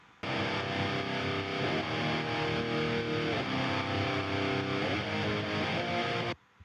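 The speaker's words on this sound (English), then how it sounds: "side chaining to the kick going 1/4," A distorted synth bass side-chained to the kick, rhythmically ducking and swelling in a steady quarter-note pulse, loud and upfront, then cutting off abruptly.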